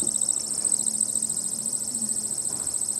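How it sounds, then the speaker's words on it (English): A dog silencer device gives off a steady, piercing high-pitched whine that holds unbroken throughout, fairly faint over a low background hiss, with no voices. "And that is a dog silencer."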